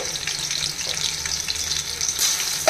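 Ginger garlic paste frying in oil in a pan with shahjeera and slit green chillies for chicken biryani, giving a steady close sizzle with soft stirring scrapes and a few sharper spatters.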